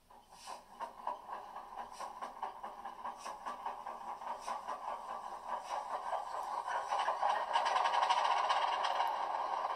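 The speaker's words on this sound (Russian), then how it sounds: "Стартует движок." The sound module of an Atlas H0 HH600/660 model diesel shunting locomotive starts up with a rhythmic chugging pulse that grows steadily louder and denser. It is faint and heard alone, with no talking.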